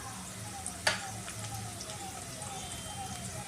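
Sliced onion and green chili added to hot oil already holding cumin and mustard seeds, a steady soft sizzle with a brief clatter as they go in, close but quiet, with no voice over it.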